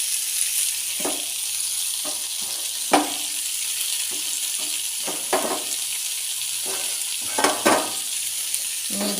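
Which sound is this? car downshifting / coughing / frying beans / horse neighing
frying beans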